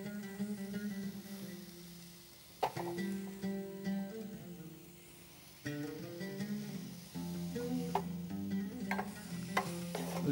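Honey chilli lemon bell peppers stirred and fried in a pan, with a soft continuous sizzle under a low background hum, broken by several sharp scrapes and clanks of a spoon against the pan.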